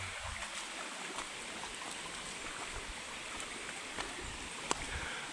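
A stream of water flowing from Mayon Volcano at Busay Falls gives a steady, faint rushing wash, continuous and unbroken, with an occasional small click over it.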